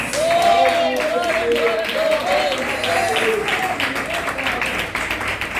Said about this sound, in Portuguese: Glorifica com as palmas